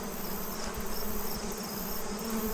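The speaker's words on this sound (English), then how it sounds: "Those are all forager bees / robber bees working those wet supers." Forager and robber bees buzzing around wet honey supers at the hives, a dense close swarm drone that holds steady and loud throughout with no gaps.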